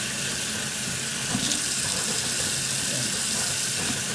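Tap water runs steadily into a sink as grapes are washed, a loud continuous close-up splashing hiss with no break.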